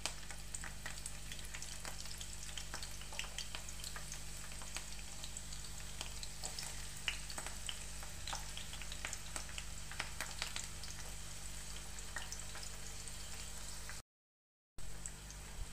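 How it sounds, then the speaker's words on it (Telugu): Chopped onions frying in oil in a pan for an ivy gourd curry, a steady dense sizzle with scattered crackles and pops, close and continuous, breaking off briefly near the end, with no voices. "మనం ముందుగా కట్ చేసుకొని ఉల్లిపాయలు వేసుకోవాలి."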